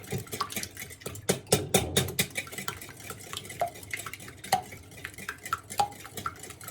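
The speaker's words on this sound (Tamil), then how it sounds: "இப்போ நாங்கள் முட்டையை நல்லா பீட் பண்ணிக்கொள்வோம்" Two eggs are whisked in a large bowl for a coffee cake, with rapid rhythmic clinks and scrapes of utensil against the bowl, close and fairly loud, in uneven bursts and no talking.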